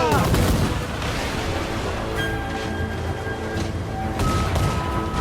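Dense, loud gunfire barrage from Assassin's Creed Black Flag, sustained without pause for several seconds, with brief whistling tones riding over the continuous roar of shots.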